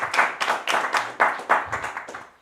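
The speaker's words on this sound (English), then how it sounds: "one final round of applause here for Yoni, zone guest, for our zone guest" A small audience applauds a guest at an EthVan meetup, a steady burst of close, dense hand-clapping lasting a couple of seconds with faint voices underneath.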